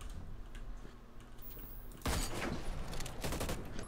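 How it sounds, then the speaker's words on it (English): Gunfire in Hyper Scape crackles in distant bursts, then a louder closer volley breaks out halfway through, with no voices. "I hear more shooting out this way"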